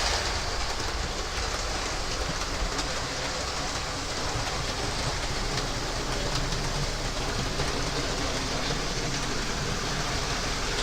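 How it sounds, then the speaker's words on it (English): Trains pass close by in a steady, loud rumble with faint clattering, a continuous broadband roar that never lets up, with no clear talk over it. "Can you hear me okay, besides the noise of the trains?"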